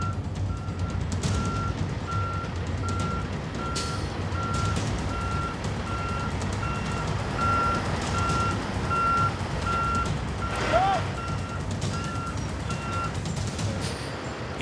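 A large truck reversing near an outback highway intersection, its reversing alarm beeping in a steady, evenly spaced rhythm over a loud, continuous engine rumble.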